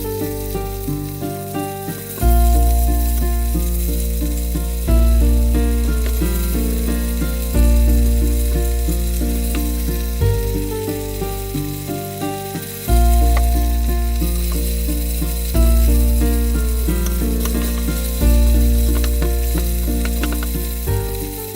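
Beef with garlic and five spice powder sizzles steadily as it is stir-fried in a hot pan, a continuous loud frying hiss with a low background hum and no talk.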